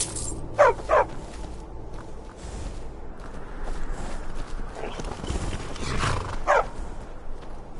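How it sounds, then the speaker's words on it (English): A trained war dog in the video game Skyrim barks in short sharp bursts, a pair near the start and another single bark later, over a steady bed of ambient game noise and footsteps. "Need a trained war dog?"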